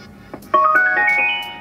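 An iLive under-cabinet Bluetooth music system sounds its pairing tone, a short rising chime of several bright stepped notes, loud and close, after a faint click.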